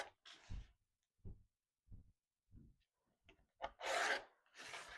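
Fabric and paper from a paper-pieced quilt block are trimmed along the sewn lines, producing soft scraping and rubbing strokes. The strokes come in short separate bursts, quiet and close, and end in two longer rasping passes with no talking.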